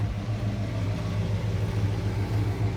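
1985 Chevy C20 with a single exhaust through a worn Thrush glass pack, a low rumbling idle that burbles steadily and close by.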